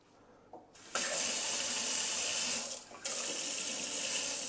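A kitchen faucet runs hot and cold water into the sink in a house in Spain, gushing in two steady streams separated by a brief dip as the tap is adjusted, close and loud, with no talk.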